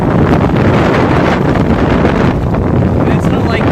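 Strong Hurricane Irma wind roars continuously at Clearwater Beach at night as the storm pushes ashore, loud broadband buffeting with rain, close and unbroken throughout.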